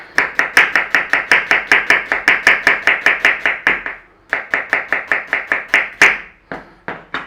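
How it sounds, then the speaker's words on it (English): Onions sliced thinly with a knife on a board, producing a fast, regular run of crisp chopping taps close up, a short pause, then another steady run of cuts. "We want a couple of onions slicing. Slice them thinly."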